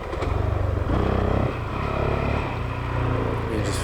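Honda CRF450L dual-sport dirt bike ridden on trails, its engine droning steadily close up with slight rises and dips in revs throughout.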